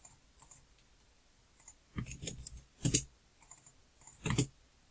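Quiet computer keyboard typing, a few scattered key clicks then short bursts of rapid tapping, close and soft with no talking.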